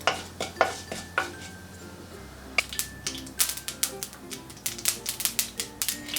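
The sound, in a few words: urad dal frying in a pan until golden brown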